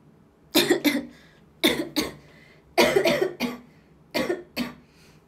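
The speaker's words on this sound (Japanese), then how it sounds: "喉痛くない、咳だけなんだ。" Four bursts of coughing, each a quick pair or triple of harsh coughs, close and loud, with brief pauses between.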